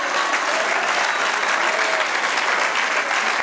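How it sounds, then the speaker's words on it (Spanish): A church congregation applauds with thick, sustained clapping that stays loud and even throughout, a crowd of hands with no break or speech on top. "Denle aplauso al Señor"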